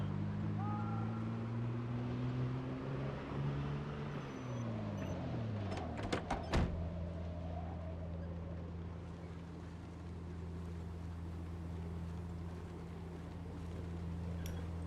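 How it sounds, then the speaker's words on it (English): A poor-condition truck engine in a video game drones low and steadily with a shifting tone, briefly revving and rattling midway before settling back into a constant hum. "I'm using the truck deliberately to make noise. Because this truck's engine is crap."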